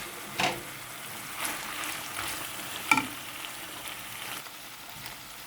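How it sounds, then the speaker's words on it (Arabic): Onion and peppers frying with liver in a pan, stirred with a few scraping clinks and soft sizzling, quiet and close with occasional sharper knocks of the utensil. "كده هنقلب اهو البصل والفلفل مع الكبده."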